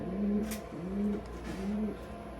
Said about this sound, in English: There was so much cooing and going on and whatnot.